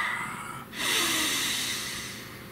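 A single deep breath drawn in sharply, close and quiet, a soft nasal snort leading into a longer, airy inhale and exhale with no talking.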